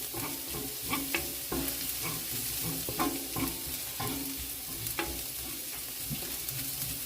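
Venison stir-frying and browning in a hot pan gives a steady close sizzle with repeated scraping and stirring strokes of a utensil throughout, no voices.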